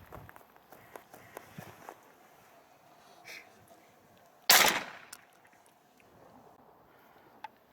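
A Çatüs 36 GL semi-automatic shotgun fires birdshot at a target about 10 metres away. A single loud close blast with a short decay follows some quiet handling clicks and shuffling.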